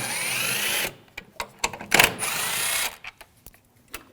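A 10mm socket on a ratchet backs out the coolant reservoir bolts on a 2007-2013 BMW 328i 3.0L inline-six. Short stretches of steady whirring alternate with sharp, evenly spaced clicks, all close and moderately loud.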